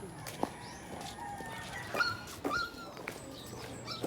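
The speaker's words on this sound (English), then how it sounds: "There's a lot of dogs on this street today." Dogs on a street in the Philippines give a few short yips and whimpers at a moderate distance, scattered over a couple of seconds against steady outdoor street noise.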